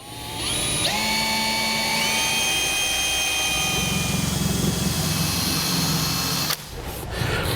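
A drill bores pilot holes through a steel mounting bracket during a fifth wheel hitch installation on a 2008 Ford F-250, whining loud and close with rising pitch as it spins up, then cutting off near the end.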